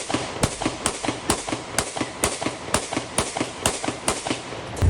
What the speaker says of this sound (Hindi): पहले आप सुनिए जरा कैसे फायरिंग की गई है।